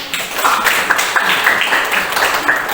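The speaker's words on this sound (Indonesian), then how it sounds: "Aplaus untuk temannya" Classroom applause for a classmate at a school anti-bullying lesson: a steady patter of many hands clapping together, fairly loud and continuous for a few seconds, with no talking over it.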